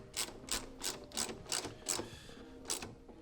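A car body bolt is tightened back into the bottom corner of a kick panel mounting plate, a series of evenly spaced ratcheting clicks, close and fairly quiet.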